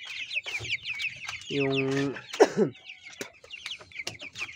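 Chickens being raised for sale cluck and squawk nearby in a series of short, uneven calls, with one drawn-out squawk in the middle and a brief voice heard faintly.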